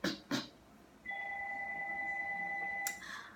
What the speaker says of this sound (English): excuse my house phone ringing